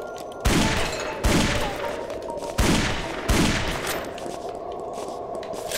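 Rapid bursts of gunfire from the video game Guns, Gore & Cannoli in versus mode, four loud volleys at roughly one-second gaps over a steady backdrop of game noise.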